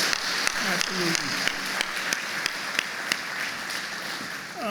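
An audience at an annual meeting applauds a big band. Dense clapping is close and continuous, with sharp individual claps standing out.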